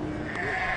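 A goat in rural Mauritania gives a short, close bleat over a steady outdoor background.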